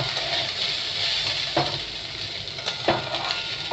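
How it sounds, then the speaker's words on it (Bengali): Rice is stirred with ginger in a hot pan while frying, giving a steady sizzle, with a few sharp scrapes of a utensil against the pan near the middle and end. "এবার চালটাকে ভালো করে আদার সাথে মিশিয়ে নেব।"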